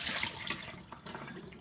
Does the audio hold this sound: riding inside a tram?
no